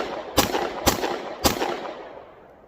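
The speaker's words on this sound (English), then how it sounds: "So put our ears on, got our eyes on, and we'll shoot." A Glock 43 pistol is test fired three times in quick succession, each shot a sharp, loud crack with a short echoing decay, roughly half a second apart, with no talking.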